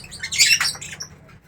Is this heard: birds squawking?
yes